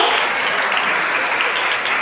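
Loud, dense applause from a crowd at a kindergarten end-of-year celebration, continuous and close for its short length.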